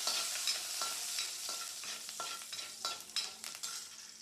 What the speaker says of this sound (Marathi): त्याला टाका, पण लसूण टाका, कढीपत्ता टाका, हिंग टाका.